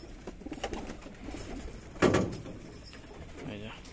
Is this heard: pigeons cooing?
yes